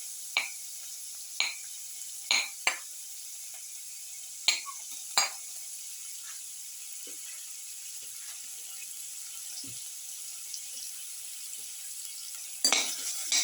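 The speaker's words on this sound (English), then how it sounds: "Put in the onion pieces." Onion pieces frying quietly in a pan with a soft background sizzle, broken by a few sharp scrapes and clinks of a utensil stirring against the pan, close and otherwise quiet.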